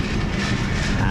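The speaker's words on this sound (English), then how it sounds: "here we have a tram going back into town." A tram in Alicante, Spain rumbles past close by, giving a steady, continuous mechanical roar that stays loud for the whole short stretch.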